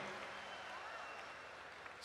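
Steady wash of audience applause at a Hindi comedy poetry gathering, broad and continuous, filling the whole stretch without any clear voice above it.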